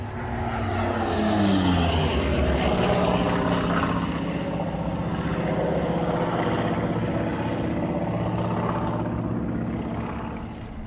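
A Grumman Bearcat warbird propeller aircraft roars past loud and near, its engine drone rising then sustained and gradually easing over about eleven seconds, with no voices.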